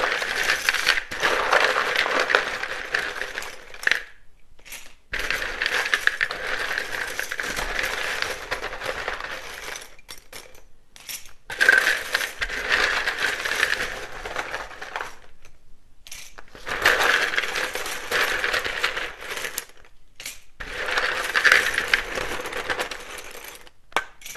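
Repeated bursts of riffling, crackling tarot card shuffling, each lasting a few seconds with brief quiet gaps between, close and fairly loud.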